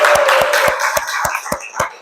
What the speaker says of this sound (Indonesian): Oke, tepuk tangan dulu buat kita semua.